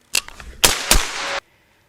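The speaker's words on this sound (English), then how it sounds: "I'm shooting anywhere between 62 grain M855 green tips, which are extremely spicy, 77 grain OTMs" Three suppressed 5.56 rifle shots through an OCL Polonium K suppressor, loud and close, the first sharp and brief, the last two in quick succession with a longer ringing tail, then silence.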